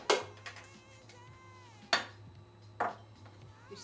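Utensil stirring baking soda, salt and flour together for Spanish donuts: a few sharp clinks against the bowl with a low steady hum beneath, alone without talk.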